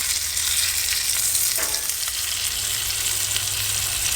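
Bacon-wrapped Sonoran hot dogs frying at a campsite, a continuous bright crackling sizzle with bursts of spitting fat, close and steady throughout with no talking.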